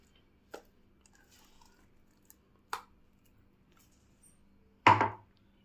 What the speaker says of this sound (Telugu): ఇప్పుడు దీన్ని గిన్నెకి తీసుకుంటున్నాను.